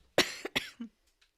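A short burst of three or four harsh coughs close up, one after another, followed by quiet.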